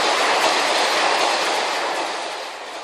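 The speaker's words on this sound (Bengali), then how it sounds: "পাটাতনের বুক চিরে চলে গেল রেলগাড়ি।" A train passing along railway tracks, a loud, steady rushing rumble with rhythmic clatter from the wheels that holds close and then eases slightly toward the end.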